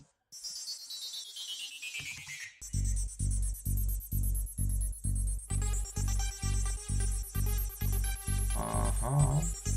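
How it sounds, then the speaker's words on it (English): Groove techno built in Ableton Live: a sweeping synthesizer riser gives way to a pounding four-on-the-floor kick with deep bass pulses and layered synth tones, steady and loud with no voices. "this is the group composed by kick, bass, and synthesizers. They sound like this."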